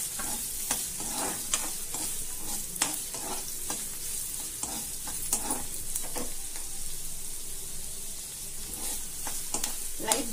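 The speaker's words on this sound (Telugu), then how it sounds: "ఒక చిన్న 2 ఆనియన్స్ వేసుకొని ఫ్రై చేయాలి" Onions frying in a pan for restaurant-style chicken Manchurian, with steady sizzle and repeated scraping stirs throughout, close and moderately loud, no talking.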